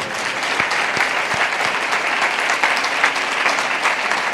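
A church congregation at a sermon meeting claps loudly and steadily, with a dense, sustained burst of applause filling the room.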